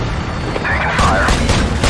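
Gunfire and explosions from a Call of Duty 4: Modern Warfare campaign battle form a loud, dense roar of booming blasts and rattling shots, continuous and close throughout.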